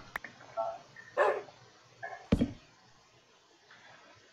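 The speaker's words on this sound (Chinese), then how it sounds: "你的狗狗好可爱" A pet dog gives a few short, separate yips and barks at moderate distance, spaced irregularly against a quiet background hum.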